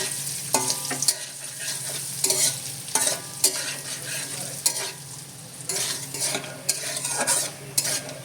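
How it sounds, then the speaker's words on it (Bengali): Grains frying in ghee in a wok sizzle steadily up close, broken by repeated scraping and clinking strokes of a spoon stirring them in an uneven rhythm. "এই দানাগুলো আমি সম্পূর্ণ ঘি দিয়ে ভেজে নিলাম"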